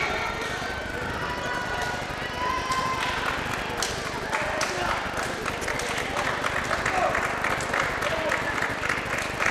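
A crowd cheering and applauding in a high school gym during a senior night volleyball match, a steady dense roar of clapping and voices with sharp claps and squeaks, continuous throughout.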